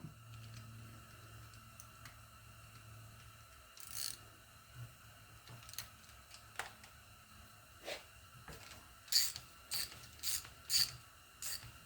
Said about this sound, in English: Looks like a 5/8 socket fits it.